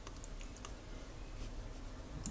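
Computer mouse or keyboard clicks while entering a loan in a web application, a soft continuous run of light taps and clicks at close range against steady background noise, with no talking.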